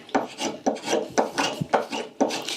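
Miller Falls No.1 cigar spokeshave shaving wood in five or six rhythmic rasping strokes, each starting with a sharp attack and fading, close and loud with no talk.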